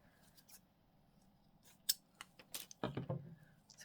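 Scissors snip through thread in a crafting session. A few quiet, crisp cuts are close by, with the clearest snips near the middle and end of the short, soft clip.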